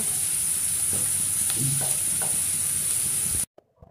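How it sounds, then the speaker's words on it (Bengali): Chopped onions fry in a pan over a medium gas flame, giving a continuous close sizzle with a few scraping stirs partway through before it cuts off abruptly. "পেঁয়াজগুলো দিয়ে এবার আমি হালকা বাদামি রং হওয়া পর্যন্ত পেঁয়াজগুলোকে ভেজে নেব।"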